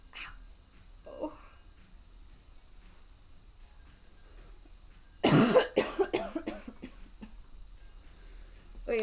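A burst of harsh coughing breaks out partway through, several rough coughs in quick succession after a quiet stretch, close and loud.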